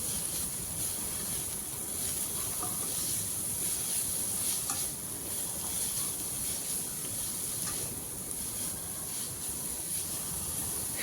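Vegetables frying in a pan with turmeric and Kashmiri chili powder, a loud continuous sizzle with steady hiss and faint stirring scrapes throughout.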